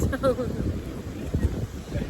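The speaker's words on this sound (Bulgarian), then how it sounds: "сега се намазахме, лежим си, много духа" Strong wind gusts across a beach at Pomorie, buffeting the microphone with a loud, rumbling roar throughout, while people talk nearby.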